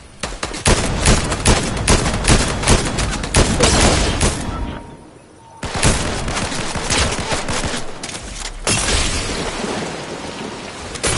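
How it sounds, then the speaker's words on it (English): Rapid gunfire in Fortnite during a late-game fight, dense bursts of loud shots in quick succession with a brief lull in the middle before the firing resumes. "somebody shooting!"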